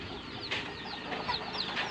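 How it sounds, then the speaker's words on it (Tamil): Chickens in a large hen house cluck busily together, many close birds chattering in overlapping bursts with sharper squawks scattered throughout. "செம்மையாக இருக்குது கோழி."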